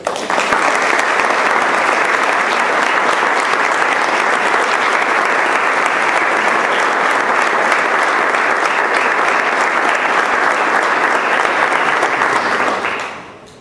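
An audience at a Spanish-language book presentation breaks into sustained applause, a thick, even wash of many hands clapping at close range for about thirteen seconds before tapering off quickly at the end.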